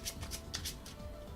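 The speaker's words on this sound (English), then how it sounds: "I think this is called the overhand shuffle." Soft, papery riffling comes in quick repeated bursts, the rhythmic whisper of cards being shuffled by hand, fairly close and quiet.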